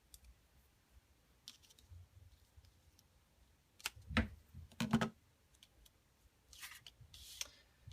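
Paper being trimmed for a handmade card, a few quiet snips and slicing clicks spaced apart, with soft handling rustles in between.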